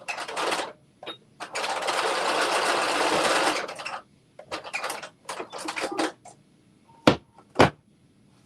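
Sewing machine running up the side seams of a garment, a long close burst of stitching followed by shorter stop-start runs and sharp clicks.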